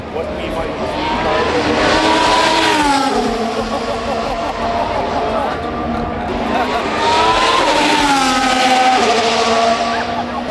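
Formula 1 cars scream past a grandstand at a race track in the Americas, loud high-pitched engines rising and falling in pitch as two cars sweep by in quick succession.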